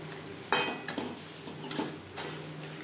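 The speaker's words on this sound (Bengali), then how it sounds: "1-2 বার নাড়াচাড়া করে দিয়েছি" Potatoes and fish for a light Bengali fish curry are stirred in a covered metal pot, giving four or so sharp clanks and scrapes of utensil against pot over a low background hum.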